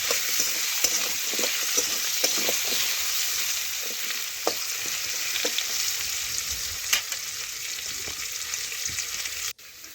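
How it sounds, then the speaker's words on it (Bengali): Potato pieces frying in a pan with salt and turmeric give a steady close sizzle, broken by scraping stirs and light clinks of the spatula. It runs continuously and then drops away abruptly near the end. "ভালোভাবে লবণ হলুদ নাড়াচাড়া করে মিশিয়ে নেব আর একটু লাল লাল করে ভেজে নেব"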